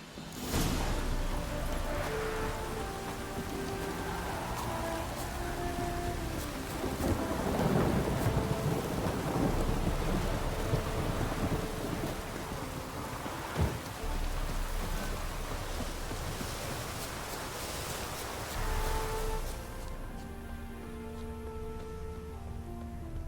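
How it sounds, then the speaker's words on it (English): Continuous heavy rain with rolling thunder builds through a stormy scene in The Witcher 3, a sharp crack near the middle, before the downpour thins to a steadier, quieter patter at the end. "A storm, damn it."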